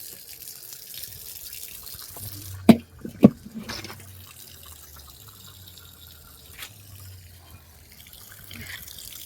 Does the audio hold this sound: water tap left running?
yes